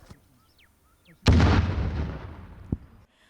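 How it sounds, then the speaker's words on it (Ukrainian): A grenade dropped from a drone at a military training ground: a sudden sharp blast erupts after near silence, followed by a rolling, decaying rumble and a second smaller crack before fading away. "Постріл. Граната полетіла."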